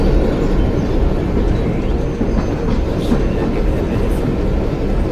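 A train rumbles steadily through a London station in the zombie video game Zompiercer, a loud continuous rolling roar with faint clatter on top, heard alone without talk.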